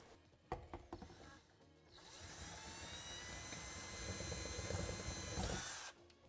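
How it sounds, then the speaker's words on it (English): A power drill with a 21/64-inch bit whines steadily for several seconds as it bores through a panel on a Polaris General XP 4 1000 UTV, starting after a few light knocks and cutting off abruptly near the end. "we're going to drill out this middle hole"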